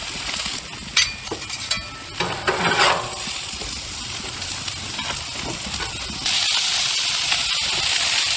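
Asparagus with bacon, grilled onions and fresh garlic sizzle steadily on a Blackstone griddle, with bursts of spatula scraping and stirring; the hiss grows louder and denser toward the end.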